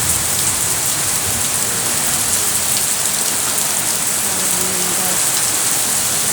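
Strong wind and heavy rain pour down outdoors in a steady, loud wash of noise, with a voice briefly speaking over it.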